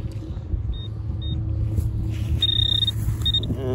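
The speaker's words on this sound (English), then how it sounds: "They're doing some vacuum sucking there of the sewer lines." A sewer vacuum truck rumbles steadily nearby while suctioning sewer lines, a low continuous drone with faint high whines drifting in and out.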